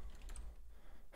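Typing on a computer keyboard during a live day-trading session, with a few quick, faint key taps close by and no talk over them.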